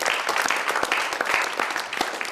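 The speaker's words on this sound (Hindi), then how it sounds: "मैं आपके लिए जोरदार तालियां बजाना चाहता हूं कमलेश" Enthusiastic studio audience applause on a Hindi poetry show, loud dense clapping with crisp individual claps standing out, sustained throughout.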